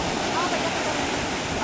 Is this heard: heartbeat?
no